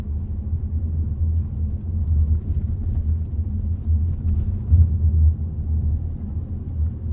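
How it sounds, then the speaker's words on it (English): Steady low engine rumble from inside a car picking up speed on a residential street during a New York road test, constant and moderately quiet with no talking. "get in there and hit the gas and pick up speed"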